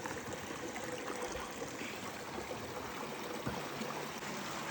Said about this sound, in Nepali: मुनिबाट पानी चुहिएको छ।